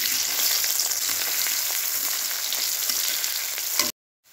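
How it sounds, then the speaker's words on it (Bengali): Chopped onions frying in mustard oil left over from frying fish, a loud, steady close sizzle that cuts off abruptly just before the end. "পেঁয়াজটা ভেজে নিয়েছি"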